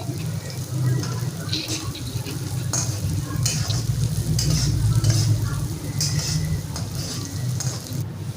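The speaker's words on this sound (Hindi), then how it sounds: "करेले के छिलके डाल दिए मैंने, अब इनको फ्राई कर लेंगे।" Thin bitter gourd peels frying in hot oil in a karahi, a loud steady crackling sizzle with a low bubbling rumble and occasional stirring scrapes.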